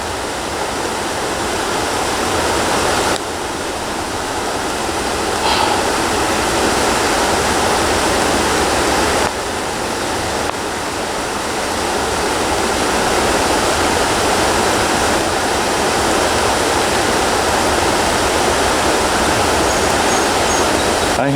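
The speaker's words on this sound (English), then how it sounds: "Straight to a river." A river flows steadily, a loud, continuous rushing wash of water at close range with no breaks or other sounds over it.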